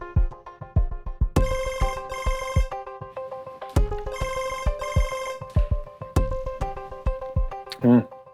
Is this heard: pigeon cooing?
no